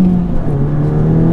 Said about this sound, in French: on a un moteur qui est rageur